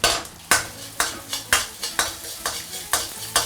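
Ginger, garlic and dried shallot slices fry in a little oil in a wok, with a steady sizzle broken by regular spatula scrapes and stirs about every half second.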